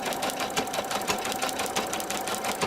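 Embroidery machine stitching a fill stitch over gold mylar: a fast, steady mechanical whirr with a regular needle-beat rhythm, close and continuous throughout.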